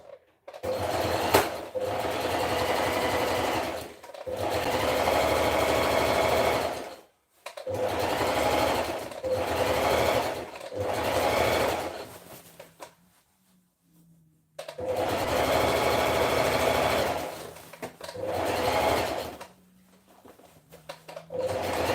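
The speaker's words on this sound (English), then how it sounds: "Then I will run a zigzag stitch right there." Sewing machine stitching a zigzag seam on a dress, running in rapid rhythmic bursts of several seconds each, separated by short pauses, close and clear with no talking.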